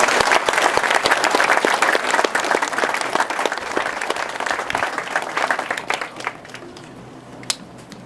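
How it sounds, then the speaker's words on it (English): A round of applause from the crowd at the 2013 Keller Ferry Sanpoil launch event, steady dense clapping that thins out and fades over the last couple of seconds, with a few scattered claps at the end. "would you join me in a round of applause showing appreciation for this?"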